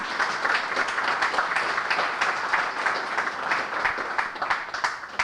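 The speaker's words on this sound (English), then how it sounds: "give these honorees a big round of applause" An audience at a school alumni association induction ceremony claps steadily for the honorees, a dense, even round of applause with a faint voice beneath it.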